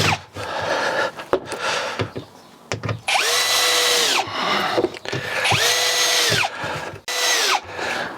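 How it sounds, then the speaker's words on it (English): A power drill drives screws into a Keter Denali 150 plastic garden box, two sustained loud whirring bursts with a rising then falling pitch, separated by brief handling clatter and quieter pauses. "go around and put the top screws in"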